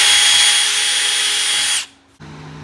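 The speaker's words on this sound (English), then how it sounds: "And drill this one" A power drill whines loudly and steadily as it bores a hole for a fender flare on a 2012-2017 Can-Am Maverick, then stops abruptly and is followed by a brief low hum.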